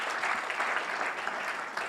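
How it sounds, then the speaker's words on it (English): Audience at a Kenyan Muslim medical professionals' scientific conference applauding the speakers, a short burst of steady, dense clapping from a hall full of people. "One round of applause for the speakers."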